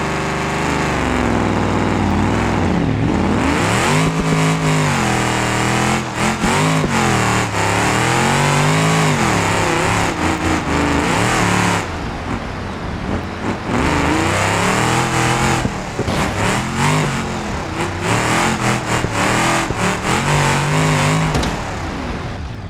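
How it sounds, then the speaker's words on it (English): A Hot Wheels race car in the BeamNG driving game revs loudly and continuously, its engine note climbing and falling through repeated acceleration and shifts, dominant and close throughout with no speech. "even though we're in a complete Hot Wheels race car here"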